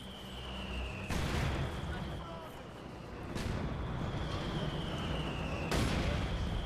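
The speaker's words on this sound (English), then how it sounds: "Wow, tons of mortars." Mortar fire and explosions in Company of Heroes 2 during a battle with two mortar teams, three heavy booms landing a couple of seconds apart over a constant rumbling battlefield din with a steady tone, while someone talks over it.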